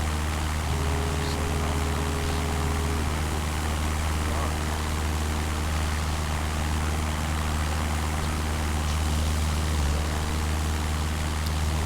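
A Cessna propeller plane in a flight simulator game drones steadily as it climbs after takeoff, a constant engine hum with no break throughout.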